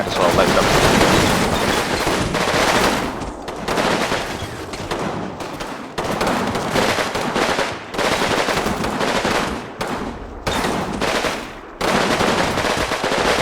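Machine gun fire rattles in the Combat Mission: Fortress Italy war game during a farmhouse assault, with loud, repeated bursts separated by brief gaps, some sounding nearer and some more distant.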